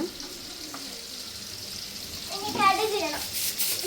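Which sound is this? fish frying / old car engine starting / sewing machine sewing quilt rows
fish frying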